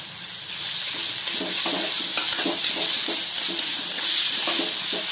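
Onion and grated ginger fry in a pan, giving a steady close sizzle and hiss with soft, irregular scrapes and taps of stirring throughout.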